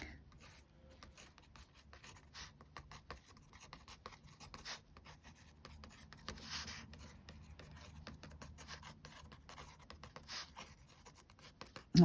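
A pen dotting and scratching on textured paper while making asemic marks: faint, close, irregular taps and rasps that continue steadily with no voices.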